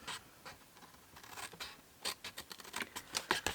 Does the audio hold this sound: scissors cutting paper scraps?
yes